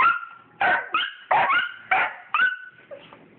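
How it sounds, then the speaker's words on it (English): An excited dog barks close by in a run of about five sharp, high yips and barks, evenly spaced, ending with a softer whine. "No barking."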